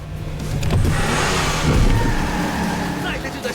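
Race cars rev their engines as a race gets under way in a film, a loud, continuous roar that swells and fades under a talking voice.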